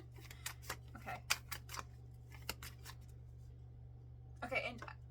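Tarot cards being shuffled by hand, a series of short crisp riffling snaps and flicks with gaps between them and a longer burst near the end, over a low steady hum.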